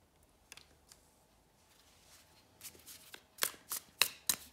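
Tarot cards are handled and laid down on a table at close range, with faint sliding at first, then a run of sharp slaps and snaps of cards being placed in quick succession.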